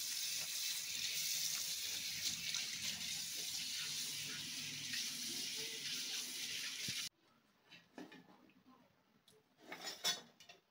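Tap water runs steadily into a sink while taro and wild vine leaves are rinsed, then cuts off abruptly, leaving quieter splashes and dish clatter.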